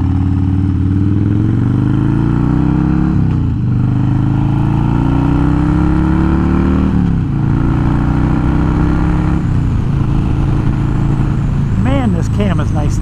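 A Harley-Davidson Twin Cam Dyna with upgraded cams and a ThunderMax tune rides along, its loud, steady engine drone rising in pitch under acceleration and dipping at a few gear changes, with wind rush throughout.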